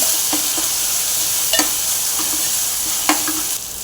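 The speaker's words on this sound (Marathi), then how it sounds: "वाटण छान परतून घ्यायचं त्याला तेल सुटेल तर चांगलं शिजून घ्यायचं वाटण" Ground masala paste sautés in oil in a pan, a loud continuous close sizzle with a few soft scraping stirs of a spoon breaking through at intervals.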